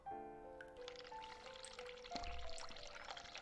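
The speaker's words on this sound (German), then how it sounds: "Heißes Wasser." Hot water is poured in a steady, faint trickling stream under a layer of sustained musical tones.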